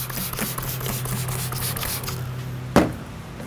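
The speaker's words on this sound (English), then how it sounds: "So let's go ahead and spray the heck out of this." Continuous hiss of a spray paint can spraying onto a Rock-Ola Jump Bug arcade cabinet, close and steady with a faint rattle, stopping before a sharp knock near the end.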